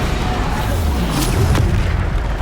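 A Bombarda spell explosion in the game Hogwarts Legacy, a single deep booming blast with a low rumbling tail, loud and close, amid other game effects.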